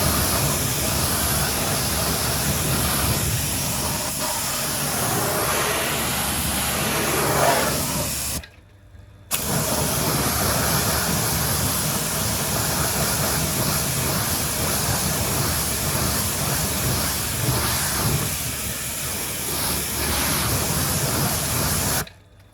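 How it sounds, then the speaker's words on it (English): A pressure washer jet sprays a dirty car wheel with a loud, continuous hiss and spatter. It breaks off sharply for about a second midway, then resumes at a steady, dense roar until it cuts out again at the end. "Now time to jet wash off."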